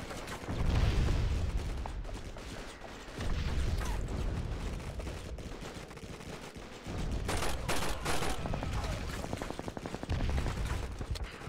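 Call of Duty 2 battle gunfire, heavy and continuous, with rattling automatic bursts and mechanical weapon clatter filling the scene at close range, and no voices on top.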